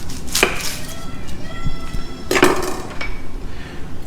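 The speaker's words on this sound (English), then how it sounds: "So not to waste with your paring knife, what you can do is cut a little piece out." An onion being chopped with a paring knife on a board, a few sharp, close knocks spaced irregularly with quieter handling sounds between them.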